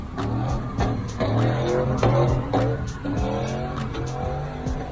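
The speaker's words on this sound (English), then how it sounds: "Oh, spinning out. Just in the middle of the intersection." A car spins out in the middle of an intersection, tires squealing in repeated rising and falling screeches over a steady engine drone, loud and close for several seconds.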